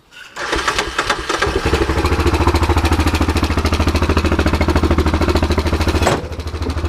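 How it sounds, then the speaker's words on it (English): A 2013 Yamaha Rhino utility vehicle engine, previously flooded in a river, cranks and catches, then runs loud and close with a fast, rough chugging rhythm that dips slightly near the end. "But we're going to start it up"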